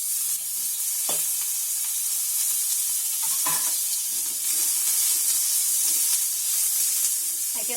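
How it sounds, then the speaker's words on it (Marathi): Garam masala and onion fry in a little oil with a loud, continuous close-up sizzle, broken now and then by sharp stirring scrapes. "त्याच्यामध्ये गरम मसाला टाकते भाजायला."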